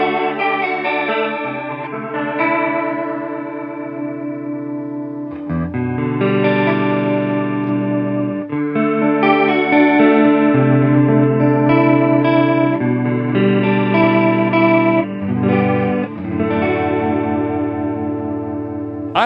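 Electric guitar strummed in open, ringing chords through a Fender Hammertone Chorus pedal, the shimmering chorus wash steady across a continuous loud passage with occasional chord changes and no talking.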